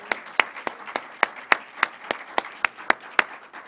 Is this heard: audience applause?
yes